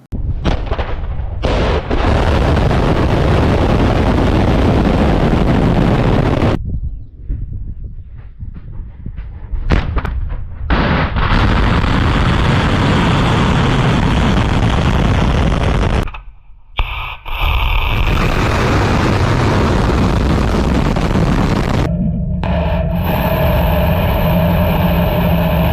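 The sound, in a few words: explosions from a Russian Sarmat missile attack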